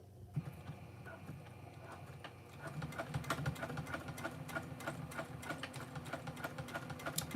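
A sewing machine runs back and forth over a few reverse stitches at a 3.5 stitch width where a rivet will go, its steady mechanical whir rising after a quiet start and continuing close and even to the end.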